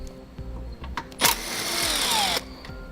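A power tool works a bolt tucked behind a car body panel while a transmission cooler kit is fitted: a short clunk, then about a second of steady, close, loud whirring that stops abruptly.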